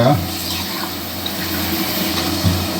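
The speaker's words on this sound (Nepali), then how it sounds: "अलिकति भने तातो पानीले पहिला अलिक धुने हो है। तातो पानीले धुएर" Running tap water splashes steadily with a constant low hum underneath, a brief knock near the end.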